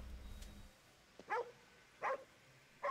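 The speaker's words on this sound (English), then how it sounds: "I hear doggos." Dog barking in the video game Ghostwire Tokyo, three short separate barks spaced about a second apart, fairly faint, over a quiet background with no talking.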